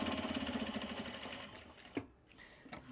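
A sewing machine runs steadily, stitching fabric for a traveler sling bag, with a fast even hum for about two seconds before slowing, a brief knock, and a few short bursts near the end.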